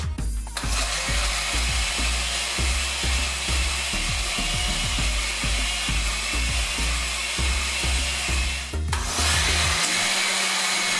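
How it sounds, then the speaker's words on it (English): Electric blender whirs steadily as it purées onion and pepper for an Ogbono soup, loud and close, with rhythmic lower chopping thumps throughout before the motor cuts out near the end. "Now I'll blend my onion and my pepper to add to it."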